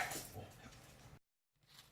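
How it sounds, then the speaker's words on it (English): Several pet dogs barking and whimpering indoors, faint yips and woofs that stop abruptly for a moment of silence and then resume, with no one speaking. "my dogs all decided to have a bark for no apparent reason"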